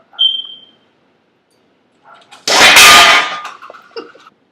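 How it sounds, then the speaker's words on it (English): A pan smacked out from under an egg balanced above a glass of water in a physics demonstration: a brief high ding opens, then after a pause comes one loud, sharp clattering hit that rings and rattles briefly before fading. "I'm going to smack the pan out from under the egg"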